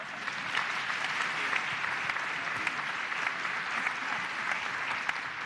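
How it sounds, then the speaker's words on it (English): Steady, dense applause from a lecture-hall audience at a 2010 lecture series in Arkansas, many hands clapping continuously at an even level for several seconds with no voices over it. "are we not excited to be here by way of applause?"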